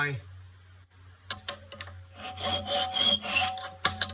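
Filing or rasping against the metal of a Wolf Creek Eliminator #2 trap while squaring off its notch: a quiet start, then bursts of scraping strokes, close and fairly loud, with a steady low hum underneath.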